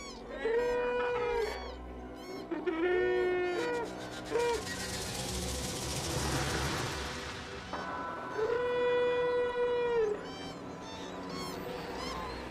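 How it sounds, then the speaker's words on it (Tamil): Male birds call noisily while fighting in the wild, loud harmonic wailing cries repeating in bursts with a noisy rush midway, fairly close and dominant over faint background. "ரொம்ப அனுபவம் வாய்ந்த ஆண் பறவைகள் சத்தம் போட்டு சண்டை போடும்."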